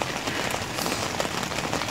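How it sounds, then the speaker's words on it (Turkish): Steady rain drums on a leaking tent at a roadside camp, a dense, even patter close around without pause or voices. "Ve bu yağmur hiç durmayabilir, sabaha kadar sırılsıklam olabilirim."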